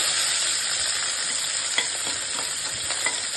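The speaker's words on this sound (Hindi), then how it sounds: "अब हम उसमें डालेंगे 2 लाल मिर्च साबुत और हम उसमें डालेंगे करी पत्ते। अब इन्हें हमें भूनना है।" Cumin, mustard seeds, whole red chilies and curry leaves frying in hot oil, giving a dense, constant crackling sizzle with a few soft stirring taps, close by and with no voices.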